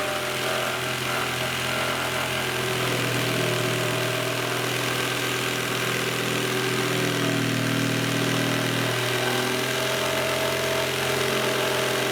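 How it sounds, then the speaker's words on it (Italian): A jigsaw cuts continuously during a van or camper fit-out, a loud, steady buzzing motor with a gritty reciprocating rasp that holds up close for the whole stretch without breaks or talking. "dopodiché andiamo a tagliare col seghetto alternativo"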